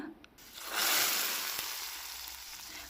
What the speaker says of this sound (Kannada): ಒಗ್ಗರಣೆಯನ್ನು ಸಾರಿಗೆ ನಾವು ಟ್ರಾನ್ಸ್ಫರ್ ಮಾಡ್ಕೊಳ್ಳೋಣ